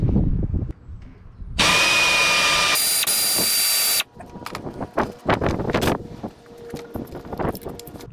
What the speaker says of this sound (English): take the rest out with the air ratchet